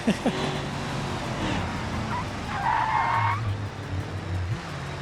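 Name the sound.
car drifting a trailer with skidding tires in the video game BeamNG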